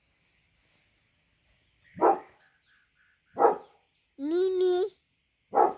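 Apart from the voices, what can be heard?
dog barking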